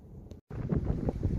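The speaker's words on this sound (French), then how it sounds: "je suis désolé parce qu'il y a du vent à mort" Low rumbling wind buffets the microphone, with a brief dropout partway through before the gusty roar resumes.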